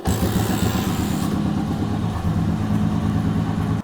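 A 1962 English-made vintage vehicle with a G2 engine runs after being hand-started, a loud, close, steady chugging idle with a rhythmic low pulse and no talking.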